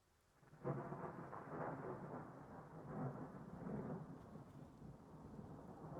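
Thunder in the Russian Fishing 4 video game rolls in after a short quiet start, a deep, loud rumble that swells and lingers for several seconds over a soft hiss of rain.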